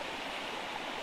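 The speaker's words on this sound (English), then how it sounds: "you could probably hear me better if I wasn't sat right next to the creek." A creek runs steadily right beside a remote riverside hammock campsite, its broad, continuous rush filling the short stretch close up with no other sounds.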